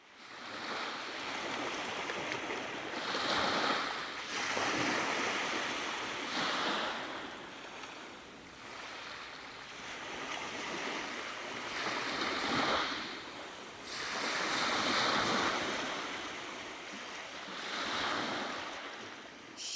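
Ocean waves roll in and wash back in slow, repeating surges, a steady roar of surf with wind, no voices.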